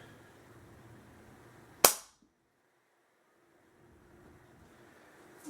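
A single sharp crack from an Umarex Fusion airgun, the loud report cutting off into near silence before faint room noise returns.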